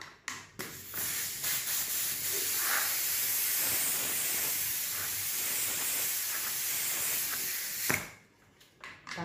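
A spray paint can hisses out black paint in one long, steady, close-up blast lasting several seconds, bracketed by a few short spurts and rattles before and after.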